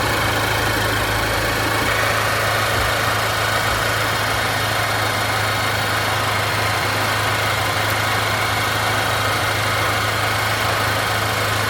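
A 2023 Chevrolet Colorado ZR2 pickup engine idles steadily and loudly at close range, a constant low hum with a mild vibration throughout and no talking over it.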